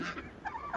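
A chicken gives a brief pair of clucking or honking calls, close and moderately loud, lasting under a second.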